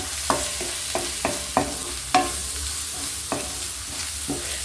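Egg curry base fries in a pan with turmeric and coriander powder while a spoon stirs, a steady close sizzle broken by about seven distinct scraping knocks at uneven intervals.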